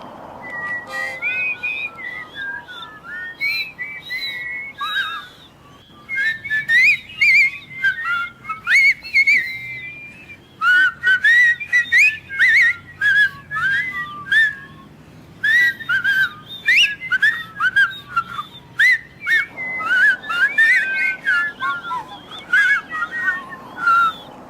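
A person from a whistlers' club whistles a lively melody alone, bright clear notes in quick rhythmic phrases with brief pauses, close and loud.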